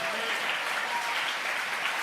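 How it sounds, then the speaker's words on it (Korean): Church congregation applauding during a worship service, an even, steady wash of many hands clapping, moderately distant and sustained throughout. "우리 주님께 영광의 박수를 올려드립시다"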